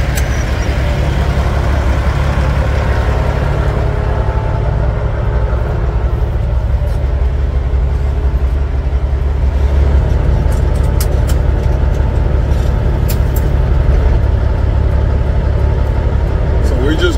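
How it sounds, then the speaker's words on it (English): Truck rumbling loudly while driving, a heavy low engine drone filling the whole stretch with steady road noise and a few brief higher squeaks near the end; no talk rises above it. "once I get rolling, my truck is too loud, y'all won't be able to hear me"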